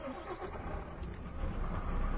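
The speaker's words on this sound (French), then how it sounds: "je vais procéder à la mise en route de mon véhicule" A car engine cranks and catches, settling into a low rumbling idle that grows slightly louder near the end, heard from inside the vehicle.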